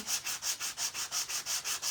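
The edge of a sanding tool rubs a wonky scarecrow craft piece in quick, even back-and-forth strokes, about five per second, close and moderately soft with no talking.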